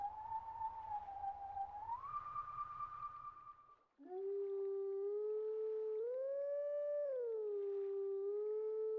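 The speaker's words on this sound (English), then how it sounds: "transform into a wolf, because, guess what? We have another Howling Stone" Wolf howling at the Howling Stone in Zelda: Twilight Princess, a long sustained howl with a rising pitch step, then a pause and a second lower, richer howl that swells and holds steady, loud and alone with no speech.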